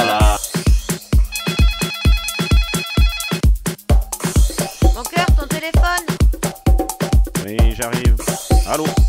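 A telephone rings repeatedly and loudly, with a rhythmic electronic ringtone pattern running throughout, partly mixed with other sound.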